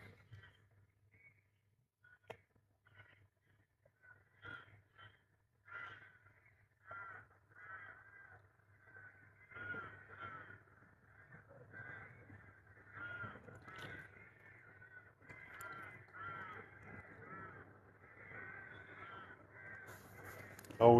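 Crows caw repeatedly beside the Sava river, a string of harsh calls in irregular bursts that grows busier after the first few seconds, moderately distant over a low steady hum.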